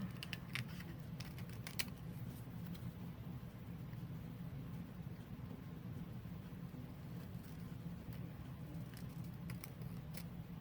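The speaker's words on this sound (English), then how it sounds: "let me go ahead and cut this out" Scissors snipping through paper, a steady run of soft close cuts over a constant low background hum, with no talking.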